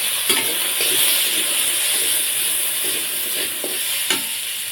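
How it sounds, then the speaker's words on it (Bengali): A medium-sized potato fries in mustard oil in a pan, giving a loud, steady close-up sizzle and hiss broken by a few sharp utensil clinks as it is stirred. "আলুটা এবার ভেজে নেব"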